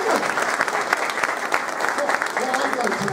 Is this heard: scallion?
no